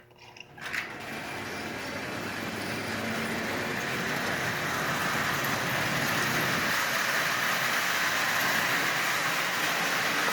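A prewar Marx Canadian Pacific toy train, just repaired with a replaced wheel, runs steadily at close range, a continuous whirring, clattering hum that starts after a brief click and holds level throughout.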